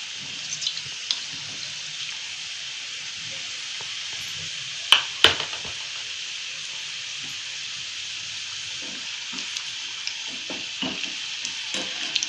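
Coconut-filled karanji pastries fry in hot oil on a medium flame, giving a steady soft sizzle and bubbling throughout, with a couple of sharper pops and spatters near the middle.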